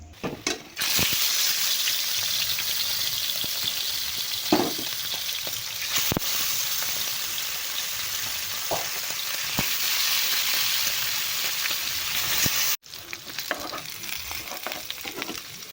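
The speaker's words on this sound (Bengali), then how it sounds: "আমি মাছগুলো ভাজা করেছি, সুন্দর করে লাল লাল করে ভাজা করে নিলাম" Fish fries in oil with a loud, dense sizzle that runs on steadily, punctuated by a few clicks and a short break near the end.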